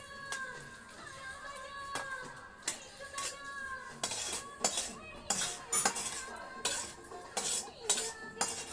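A metal spatula scrapes and presses cooked rice around a pot for biryani, giving repeated clinks and rasping scrapes in an uneven rhythm, close by and without any voices.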